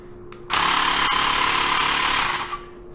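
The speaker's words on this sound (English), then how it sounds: "So when you press that button, it will turn on, and compressed air will be coming from this nozzle" A Xiaomi Mijia portable electric air compressor tire pump switches on with a sudden loud, harsh buzzing drone, running steadily up close for about two seconds before cutting off.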